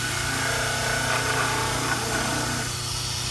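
A dental model cast being trimmed on a powered model trimmer, a continuous loud motor hum with grinding noise, steady and close throughout.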